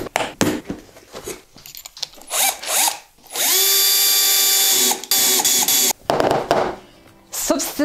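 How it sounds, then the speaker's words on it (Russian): A cordless drill-driver with a drilling function bores holes, its motor whining loudly and steadily for a couple of seconds between shorter bursts and clicks, close and dominant. "Нет, это изначально шуруповерт, который с функцией дрели."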